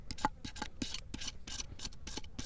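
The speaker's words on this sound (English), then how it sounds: "just let's scrape this with that 90-degree spine" The 90-degree spine of an LT Wright Gen5 knife rasps steadily across a crawdad outdoors, a close, continuous series of rough scraping strokes with no voices.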